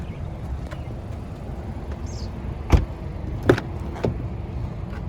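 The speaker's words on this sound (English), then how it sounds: "And then open the gas tank, and open the trunk" On a 2020 Acura TLX with a 2.4 engine, the fuel door and trunk release with a few short clunks and thumps spaced apart, heard close over a steady low hum of the car.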